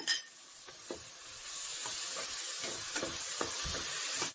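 Shallots sautéing with chopped coriander and mint for a basmati mutton biryani: a continuous close frying sizzle broken by several soft spatula stirs and scrapes, with no talking.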